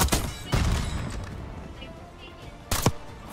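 Sniper rifle shots in a multiplayer shooter game, a few sharp loud cracks with a heavier blast near the start and another at the end, over game background noise.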